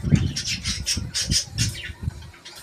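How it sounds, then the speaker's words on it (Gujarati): White pigeons take off and flutter in a sunny outdoor spot, a rapid series of wing flaps and clatter lasting a couple of seconds with a few soft squawks, fairly close and clear with no talk. "અને આ જો કબૂતર ઉડે છે."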